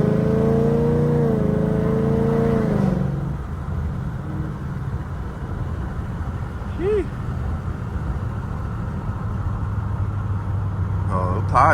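A Ford Mustang GT cruising at night gives a low, steady exhaust drone from inside the car, with a voice talking over the start and a couple of brief chirps later.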